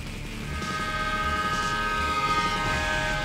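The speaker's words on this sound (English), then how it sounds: "Incoming train." An approaching train in the PS2 video game Armored Core 2: Another Age, a steady loud rumbling drone with sustained tonal whine and rhythmic low pulses, continuous throughout.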